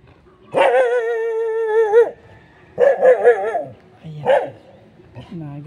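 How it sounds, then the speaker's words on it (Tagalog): An angry dog barks and yips at close range on a street in Davao City, with one long drawn-out howling bark followed by shorter sharp barks and whimpers. "Nagalit na si aso."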